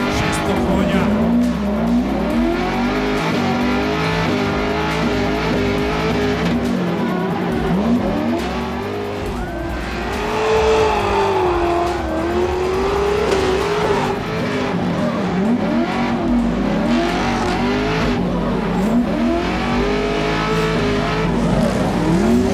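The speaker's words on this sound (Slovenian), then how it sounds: "Odličan zvuk auta, lijepa kontrola sada" Nissan Silvia S14 fitted with a 600-horsepower Chevy LS V8, drifting at a Croatian drift competition: a loud, sustained engine roar rising and falling with revs, mixed with tire squeal and skids, with an announcer talking over it.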